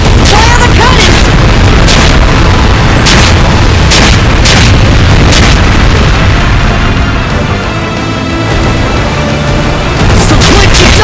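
Cannons fire repeatedly in the video game Ys X: Nordics, a loud barrage of booming blasts at an irregular rhythm over battle music and sound effects, with voices talking.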